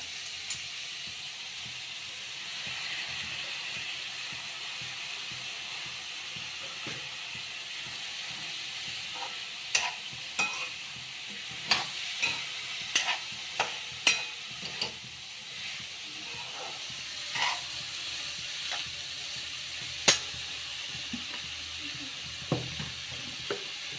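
Lentils go into a hot pan for eggplant curry, bringing a steady hiss and sizzle with scattered sharp clicks and spatters, close up and without talk.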